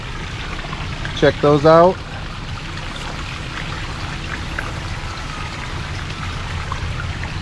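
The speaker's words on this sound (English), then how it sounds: "Get over so you can see the waterfalls." Waterfalls splash into a large koi pond, making a steady, even rush of water throughout. Someone speaks briefly near the start over the flow.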